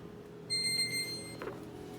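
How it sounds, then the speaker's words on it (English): A kitchen timer goes off while mini banana chocolate chip muffins bake, giving a short burst of high electronic beeps, fairly faint over a steady appliance hum, with no talking. "So timer is done."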